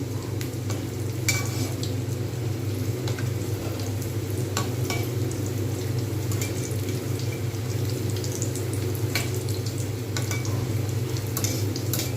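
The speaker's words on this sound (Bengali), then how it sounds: "আপনার যেমন ইচ্ছা সেইভাবে ভেজে নেবেন ঠিক এইভাবে ভেজে নেবেন" Vegetable cutlets frying in oil over medium heat, a steady dense sizzle running evenly throughout with occasional sharper crackles and pops, no talking.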